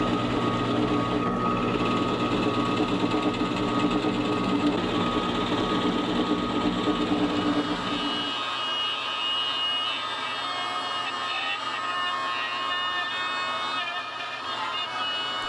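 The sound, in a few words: drilling out wood guitar body cavity with a Forstner bit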